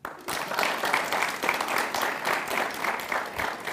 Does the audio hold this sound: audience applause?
yes